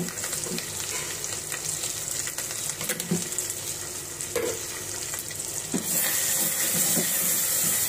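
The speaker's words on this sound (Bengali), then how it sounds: "মশলাটা ভালো করে কষিয়ে নিচ্ছি।" Spice paste with ground coriander and salt frying in a pan, a steady close sizzle with scraping stirs throughout, brightening into a louder hiss near the end.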